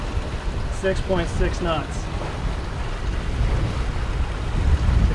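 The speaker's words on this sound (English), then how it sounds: "And here comes the wind." Wind rushes and roars steadily around a sailboat on the Ottawa River, with water washing against the hull and a voice speaking briefly over the blustery noise.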